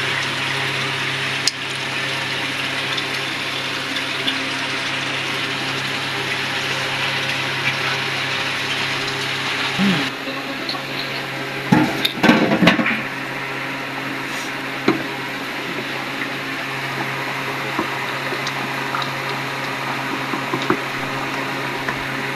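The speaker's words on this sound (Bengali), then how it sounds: "তরকারি তো ফুটছে" Curry simmering in a pot on the stove, giving a steady low bubbling hiss with a few brief clatters and pops midway, no voices.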